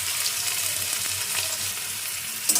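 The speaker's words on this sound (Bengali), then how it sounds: "এই প্রথমে কড়াইয়ে তেল দিয়ে দিয়েছি, আর দেখো এখানে গাজর, পেঁয়াজ, লঙ্কা" Carrot, onion and green chili frying in oil in a wok, a close continuous hiss and crackle with a brief scrape of stirring near the end.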